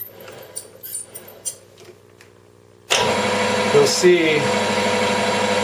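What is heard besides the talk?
lathe turned on, spinning a piston casting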